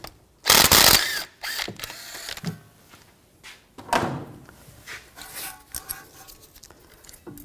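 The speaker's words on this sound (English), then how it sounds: "I'm going to take this bolt out, use a 13mm socket." A ratchet with a 13mm socket loosens a rear brake caliper bracket bolt on a 2004-2009 Audi A4 Quattro, giving a loud burst of clicking near the start followed by shorter, fainter ratcheting clicks and metallic handling noises.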